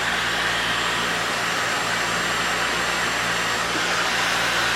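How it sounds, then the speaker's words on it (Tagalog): A Dyson Supersonic hair dryer runs at its maximum heat setting, giving a steady, close, loud airy whoosh with a thin high whine, unbroken throughout. "The good thing about this dryer is that even if I use it on the maximum heat setting,"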